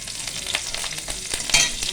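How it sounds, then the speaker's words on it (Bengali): Green chillies dropped into hot oil already tempered with cumin seeds in a kadai, a loud, close, continuous sizzle with bursts of spitting and stirring, no voices. "এবার আমি কাঁচা লঙ্কা ফোড়ন দিয়ে দিলাম"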